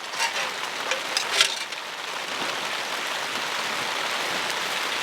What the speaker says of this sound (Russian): Видишь, опять дождь.